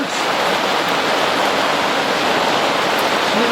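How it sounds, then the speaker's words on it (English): Steady rain with water pouring out through a boat's scuppers, a dense continuous wash of splashing and hiss that holds even and loud throughout, with no voices. "It's raining pretty good too."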